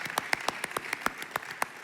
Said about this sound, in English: the generous people out here in the crowd deserve another round of applause